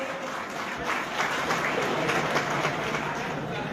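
An audience at a humorous Hindi poetry recital bursts into dense, sustained applause, many hands clapping together at fairly close range with no talk over it.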